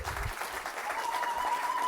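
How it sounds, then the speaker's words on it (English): Applause from a conference audience, a soft, steady wash of clapping heard from some distance, faint and even throughout. "give him a big round of applause because he's the organizer of this"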